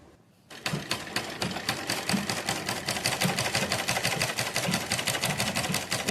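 A sewing machine runs steadily, stitching the side seam of a Patiala salwar. The rapid, even needle clatter starts after a brief quiet moment and then continues close and loud with no pauses.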